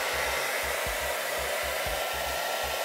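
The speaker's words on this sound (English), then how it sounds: "So I don't have a heat gun, so we're gonna use this hairdryer" A hair dryer blows steadily and loudly up close, used to heat a golf club grip for removal, its constant whooshing airflow broken by soft, low, rhythmic thumps.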